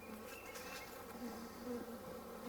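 Close, continuous buzzing of a crowd of honeybees, a soft steady drone with slight swells in loudness.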